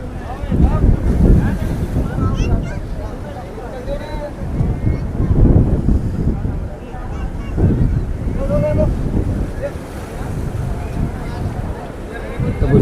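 Steady roar of wind and crashing sea waves at the Haji Ali Dargah seafront, Mumbai, loud and continuous, with rushing surges rising and falling throughout.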